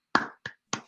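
Three sharp hand claps sound close to the microphone on a Zoom call, spaced unevenly within a second with brief silence between them.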